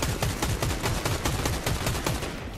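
Automatic gunfire in Fortnite Zero Build ranked play, a rapid, evenly spaced string of loud shots that runs the whole time without pause.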